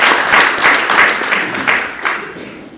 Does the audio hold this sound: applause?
yes